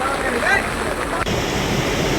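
Swollen river floodwater rushes along Chikhli–Puniya road during heavy monsoon flooding in India, a steady loud broadband roar of churning water with a faint voice under it and a brief dip near the middle.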